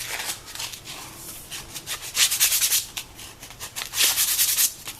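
Sandpaper rubs over the end of a hand-carved wooden spoon in uneven back-and-forth strokes, close and dry, with louder bursts of scraping between quieter passes.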